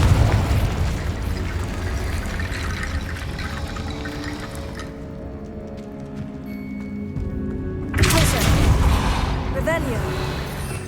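A Confringo blasting spell goes off in Hogwarts Legacy amid a dense, rumbling game soundscape, with a sharp burst of crackling impact near the end over the continuous low roar; a voice speaks spell names.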